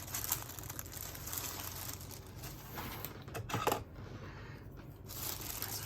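Cheetah print sticker tearing loose from colorful cheetah print tissue paper during an unboxing, a run of close, dry crinkling and ripping paper sounds with a brief sharper tear in the middle, no talking.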